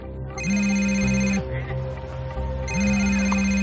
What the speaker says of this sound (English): my sister's phone kept ringing